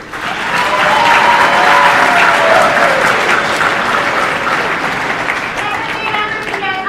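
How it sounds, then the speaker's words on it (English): An audience at an FFA convention session claps, a loud, dense, sustained round of applause that swells early and then eases off slightly, with some crowd murmur mixed in. "Let's give them one last round of applause"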